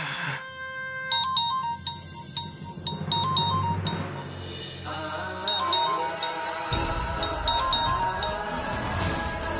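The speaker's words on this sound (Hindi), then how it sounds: "फोन भी बार बार बज के तंग करेगा।" A mobile phone rings loudly with a repeating melodic ringtone, its chiming notes cycling over and over without pause.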